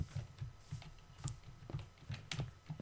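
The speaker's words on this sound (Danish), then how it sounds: "Beklager, hvis mit tastatur larmer lidt" Clicky keys on a gaming keyboard tap out a quick, irregular rhythm of close, crisp strikes, with a low thump under each keypress and nothing else over it.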